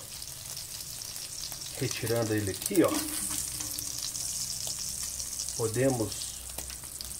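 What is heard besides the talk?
bacon frying in a pan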